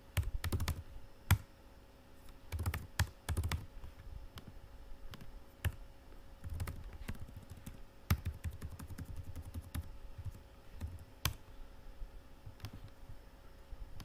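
Fingers typing on a computer keyboard while filling in a web form, a steady run of close, crisp key clicks in irregular bursts with short pauses, no voices.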